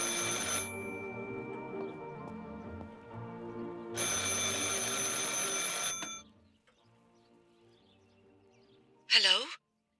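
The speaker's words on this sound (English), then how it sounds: "I should pick up the phone but remain silent." A telephone rings in the horror video game Martha Is Dead, loud tonal bursts at the start and again mid-clip, then falling quiet before a brief sharp sound near the end.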